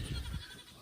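A goat gives one short, low bleat up close, a single brief call lasting under a second.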